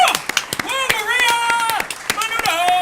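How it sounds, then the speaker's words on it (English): A few people at a podcast-style recording give brief, scattered hand claps. The sharp claps land under and between louder talking voices, and the voices dominate. "I think that deserves a big round of applause."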